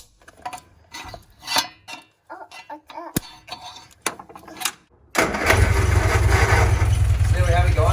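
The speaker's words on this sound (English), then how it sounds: "then we're going to start the engine" Clicks and clatter of tinkering, then a classic Mini's small car engine cranks and starts after ignition points adjustment, settling into a steady, close idle.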